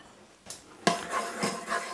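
A metal utensil knocks and scrapes against a pressure cooker pot in a few quick, uneven strokes while stirring oil, close by.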